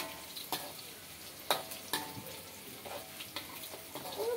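Onions frying in a pan, a continuous soft sizzle with occasional scraping stirs and small pops, close by and without talk.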